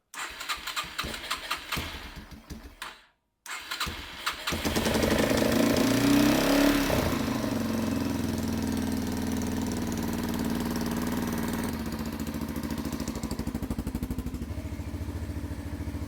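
A small engine cranks briefly, stops, then catches and settles into a steady, loud idle that runs on continuously.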